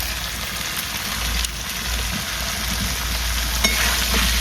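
Chicken being slow-fried into kosha in a pan with ginger, garlic, turmeric, green chilli and salt gives a steady, dense sizzle that runs continuously and close, with a few faint stirring clicks and no talking.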